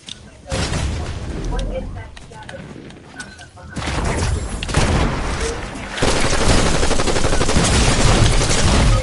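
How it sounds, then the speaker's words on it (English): Machine gun fire in Fortnite comes in rapid bursts mixed with game effects and ambience, growing louder and denser toward the end, with voices talking over the action. "Machine gun."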